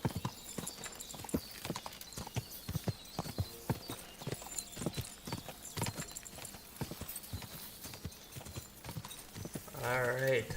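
Horse hooves clip-clop rapidly and steadily in the video game Kingdom Come: Deliverance, a quick drumming gallop close by, ending with a short whinny.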